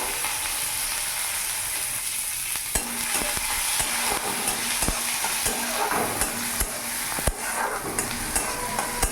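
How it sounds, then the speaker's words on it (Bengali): Chopped onion fries in oil with a steady, bright sizzle, punctuated by sharp clicks and scrapes of a spoon stirring the pan. "এরই মধ্যে এবার আমি কুচনো পেঁয়াজ একটা দিয়ে দেবো"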